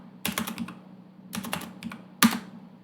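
Keys clack on a computer keyboard as a command is typed into a Windows Server 2022 command prompt, three quick bursts of close, crisp keystrokes separated by short pauses.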